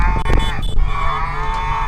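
Several people imitate a cow's moo together, loud and close, with drawn-out harmonic voices during a 4L Trophy rally drive.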